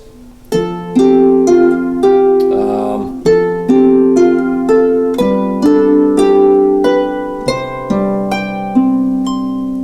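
Harp plucking the melody of All Through the Night, close and clear: a steady sequence of ringing single notes over sustained low bass tones, each pluck decaying slowly into the next.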